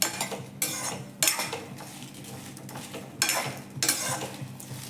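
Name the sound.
country chicken frying for sambar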